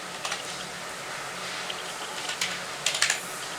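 Keystrokes on a computer keyboard while a formula is entered into a spreadsheet cell, soft irregular clicks in short bursts, clearest near the start and toward the end over a steady room hiss, with no one speaking.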